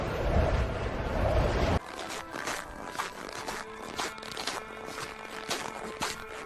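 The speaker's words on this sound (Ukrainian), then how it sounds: "Скрип снігу." After a brief gust of wind, footsteps crunch through snow in a steady rhythm, several crisp squeaky steps close by.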